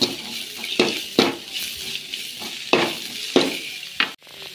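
Onions and chillies sautéing in a pan without oil, sizzling with repeated scraping and stirring strokes, several sharp bursts over a low crackle, close by.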